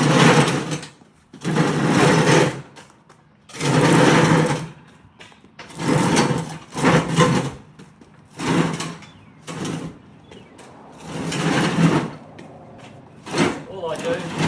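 A power screwdriver drives screws into a Hustler FASTRAK SDX mower deck during a change from mulching to slashing, in close, loud bursts of whirring separated by short pauses, with someone talking between them.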